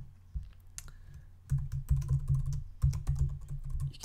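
Computer keyboard keys tapped in quick irregular bursts while a password is entered, close and fairly quiet, with short pauses between clusters of clicks.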